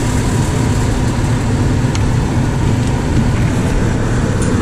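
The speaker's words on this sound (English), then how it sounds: "I'll just check the drive with the engine before" A sailing boat's engine runs steadily at a moored start on an inland waterway trip from Nieuwpoort, a constant low rumble heard close by with no talking.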